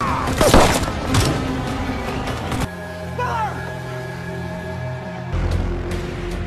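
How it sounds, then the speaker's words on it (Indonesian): Film gunfire from the action movie The Forever Purge: a burst of loud shots and thumps near the start, then a lower rumbling scene with voices faintly underneath. "salah satu anggota kelompok tadi menembak Titi sehingga mengakibatkannya meninggoy"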